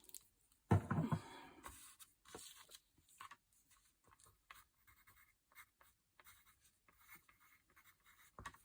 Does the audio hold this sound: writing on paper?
yes